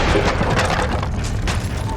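A deep, rumbling explosion blast in the Western shooter game Call of Juarez: Gunslinger. It booms loudly and continuously for about two seconds with heavy low-end rumble.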